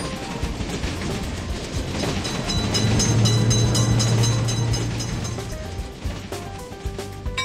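A train runs past a level crossing in the Railroad Crossing video game, a loud, steady rumble of rolling wagons with a sustained low hum swelling in the middle and fading slightly toward the end, with no talk.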